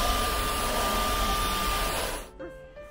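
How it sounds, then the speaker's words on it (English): A bendable Japanese vacuum cleaner designed for reaching under beds runs with a steady close whirring hum, then cuts off abruptly near the end. "Vacuum cleaner."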